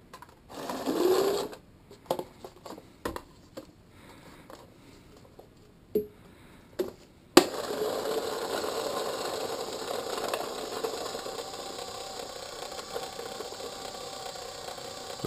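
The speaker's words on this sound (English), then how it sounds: "show this hopper feeding" Sound-activated Empire Prophecy Z2 paintball hopper feeding yellow Reballs: sporadic clicks and short motor bursts, then a steady whirring drive spinning continuously in the second half, close up.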